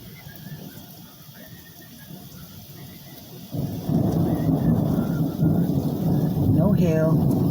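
Thunder from a nearby lightning storm rumbles low and steady, swelling louder midway through as rain keeps falling on surfaces, with a brief high squeal near the end.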